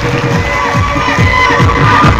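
A seminar crowd at an RCM business event in India claps loudly for themselves, with whoops and cheering voices mixed into a steady, close wash of applause throughout.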